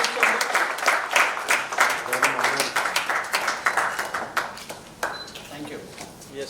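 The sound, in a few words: audience applause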